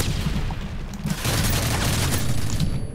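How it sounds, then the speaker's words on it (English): Gunfire in Call of Duty Modern Warfare 3 multiplayer, a dense, continuous rattle of shots and booms amid loud game noise. "Oh, this gun sounds so fucking cool."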